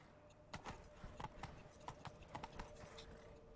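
Roach, the horse in The Witcher 3, runs along with irregular, fairly quick hoof clops over a faint steady background, quiet and slightly distant.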